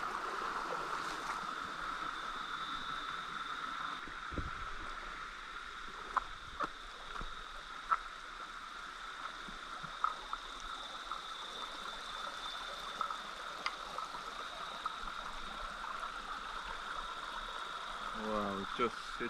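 A river in Jamaica flows steadily near a waterfall with a broad, constant rush of water, while faint knocks and footsteps come through now and then and a voice speaks briefly near the end.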